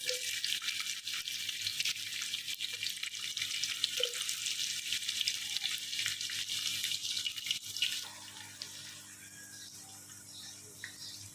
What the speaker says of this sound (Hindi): घी में प्याज हमने डाले हैं और अब हम इसे फ्राई करेंगे